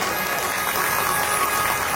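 Audience applause at a Shrimad Bhagavat Katha religious gathering, welcoming donors: a steady, dense wash of many hands clapping, sustained evenly throughout.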